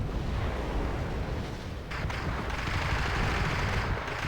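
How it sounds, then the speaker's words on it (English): Artillery shells a bridge in the wartime strategy game Wargame. Dense, continuous rumbling barrages and blasts fill the clip at a heavy, steady intensity. "Artillery's coming in on that bridge."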